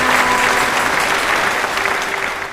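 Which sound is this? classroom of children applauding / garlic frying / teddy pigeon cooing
classroom of children applauding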